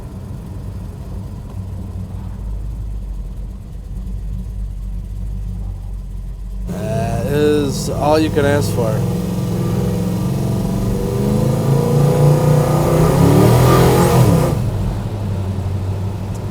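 A 1967 Plymouth GTX with a 440 engine accelerates hard, its engine note climbing into a loud, swelling roar from inside the car, and someone speaks briefly over it.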